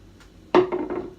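Soaked almonds and chopped dates drop into a jug with a sudden close clatter, followed by a couple of softer settling knocks as the pieces land.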